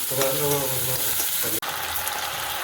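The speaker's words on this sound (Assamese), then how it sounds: "প্লাছ মই বিনছ আৰু মটৰো দি দিলোঁ। দি পেলাই অলপ ভাজি ল'ব" Green beans and peas fry in a hot pan for Maggi noodles with a loud, steady sizzle; a voice speaks briefly over it at the start before the hiss carries on alone.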